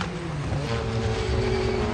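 Porsche race cars at the start of the 1996 Le Mans 24 Hours make a continuous loud engine drone, steady and close with layered engine tones.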